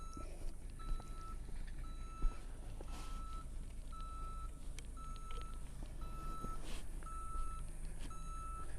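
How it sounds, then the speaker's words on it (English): A dump truck backing in to dump dirt at a house slab foundation, its reversing beeper sounding in regular short pulses roughly every half second over a low, steady engine rumble at moderate distance. "See if we can get him backed in here where we can dump our dirt where we want it."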